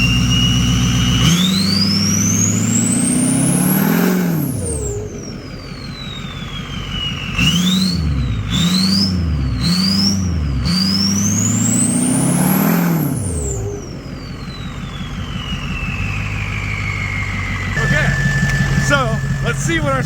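A Ford 6.0 Powerstroke diesel truck engine revs loudly and up close, rising in long sweeping climbs, then several quick successive blips, another big rev and a settling idle, with a brief high beep near the end.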